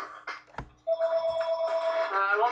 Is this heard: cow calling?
no